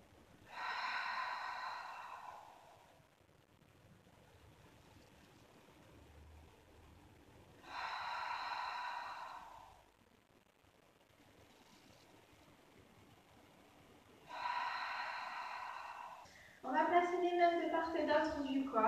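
Slow, deliberate breaths during a beginner Pilates exercise: three long, airy inhale-exhale cycles a few seconds apart, close and soft, followed by someone speaking.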